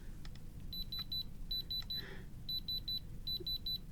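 A diamond tester lets out quick high electronic beeps in groups of three, repeated in a regular pattern against a quiet background hiss.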